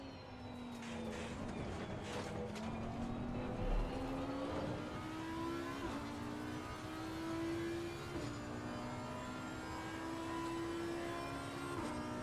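An Audi race car in Assetto Corsa Competizione sustains a steady engine drone, climbing in pitch through gear after gear with brief dips at the shifts, heard continuously from the cockpit with no talking.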